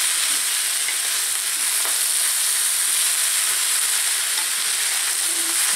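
Steady, loud sizzling and crackling of vegetables frying in a hot white-coated pan, continuous hiss throughout with no voices.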